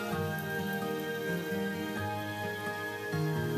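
Urad dal vadas for dahi vada frying in hot oil, a dense steady sizzle and crackle with small bubbling pops, close and continuous with no talk.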